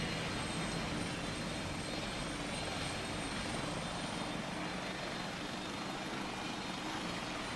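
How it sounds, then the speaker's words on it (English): Video game flight simulator helicopter with a steady, dense rotor and engine drone that holds at an even level throughout, with no other sounds over it. "Is that helicopter literally going to try to land on my"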